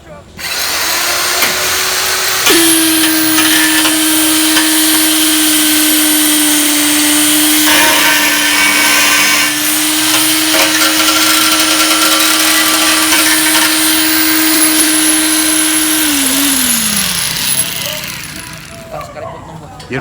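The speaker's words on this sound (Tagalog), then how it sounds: "Ito po yung gagamitin natin sa haligi ngayon, guys. Para mag-vibrate yung mga simento, para makumpak yung simento." A concrete vibrator runs loudly and continuously while compacting cement for a pillar at a house construction site, a steady high motor whine that starts abruptly, holds for over ten seconds, then winds down.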